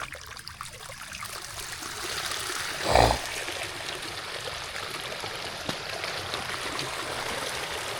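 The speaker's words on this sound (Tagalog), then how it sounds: "pakawalan natin ng tubig kasi natunaw naman na yung abuno dyan" Water drains out of a fertilized rice paddy, a steady trickling, rushing flow close by with a brief louder splash midway.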